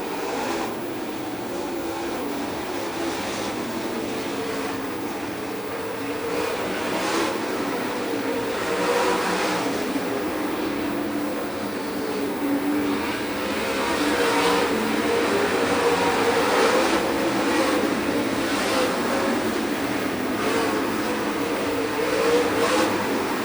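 Race cars running two wide on a track roar past in a continuous heavy engine drone that swells louder toward the end, loud and unbroken, with no voices.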